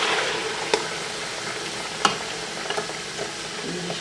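Tomato paste hits a hot karahi for restaurant-style tikka karahi, giving a steady, soft frying hiss with a few sharp stirring clicks and taps, no voices.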